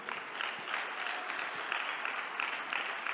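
Audience applause filling the room steadily, a dense even patter of many hands clapping at moderate volume with no break.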